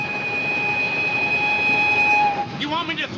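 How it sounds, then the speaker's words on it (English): A train whistle sounds as a long, steady, loud tone over the rumble of a moving train, then cuts off and is followed by rail noise. "Just listen to that whistle. Ain't it a dandy?"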